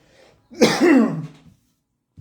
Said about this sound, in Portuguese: Então vocês vão me perdoando aí pelos pigarros.